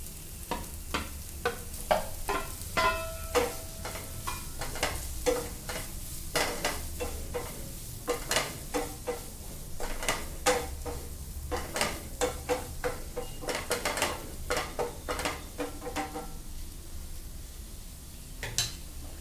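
Paneer goes into a pan of softened, cooked tomatoes and is stirred through, with a low sizzle underneath repeated scraping and clinking strokes of a spoon against the pan in an uneven rhythm.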